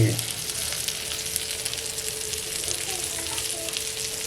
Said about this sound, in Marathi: मच्छी मस्त फ्राय झाले बघा